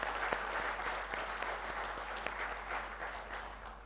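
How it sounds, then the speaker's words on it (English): An audience at a groundbreaking ceremony for a new pharmaceutical facility applauds with sustained, dense clapping that holds at an even level throughout, with no speech over it. "I think they deserve a big round of applause."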